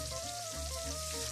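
Southern-style battered chicken frying in a pan over medium heat gives a steady, soft sizzle with faint crackle, close but quiet, no talking.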